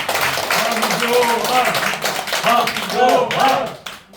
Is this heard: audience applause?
yes